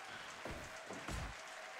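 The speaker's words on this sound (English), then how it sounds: "Got a golf clap." A crowd at an event gives a faint golf clap: a few sparse, polite claps rise briefly over quiet background noise.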